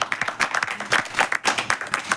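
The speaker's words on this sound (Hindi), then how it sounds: "तो रोहित के लिए ताली बजा दीजिए कि जवाब आया" An audience at a talk on yoga claps in quick uneven bursts, a short burst of close applause.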